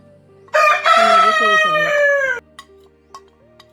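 A rooster crows once, loud and close, in a long drawn-out call, followed by a few faint clucks and quiet household noises.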